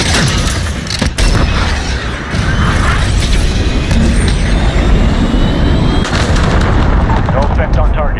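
A cruise missile strike in Call of Duty: Modern Warfare (2019), played in Search and Destroy mode, lands as loud, heavy booms and rumbling blasts with sharp cracks and gunfire mixed in. Voices come through faintly under the din.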